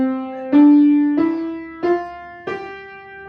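Piano playing a short beginner's phrase of four single notes in a slow, even rhythm, each note ringing briefly, close and unaccompanied.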